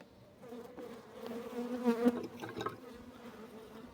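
Honey bees buzz in a winter hive, slightly disturbed, a soft steady hum that swells louder for a moment in the middle, with no talking.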